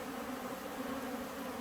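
Honeybees hovering in front of their hive in Newfoundland in August, a faint continuous buzzing drone of many wings close by, with no voices.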